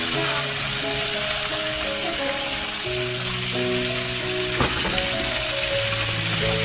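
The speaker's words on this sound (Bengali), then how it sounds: "তো এখন মাংস কড়াইতে চেপে গেল, চিকেন কষা খেতে ভারী মজা" Spicy chicken kosha fries in a kadai, giving a steady, crackling sizzle with a brief stirring knock, under faint sustained background music.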